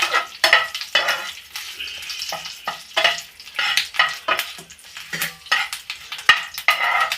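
Curry leaves and mustard seeds fry in hot oil on medium heat for an onion chutney, with bursts of crackling and spattering, and a spoon stirring and scraping against the pan in an irregular rhythm.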